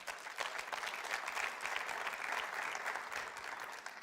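A church congregation applauds together in a steady, dense wash of clapping at moderate distance, holding evenly for several seconds without talk over it.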